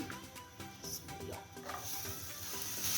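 Green chillies sizzle in a hot pan while Boishakh special peanut bharta is cooked, a steady close frying hiss with soft stirring scrapes running throughout.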